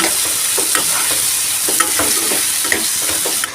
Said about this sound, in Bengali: ভালো করে নেড়ে চেড়ে হালকা করে একটু ভেজে নেব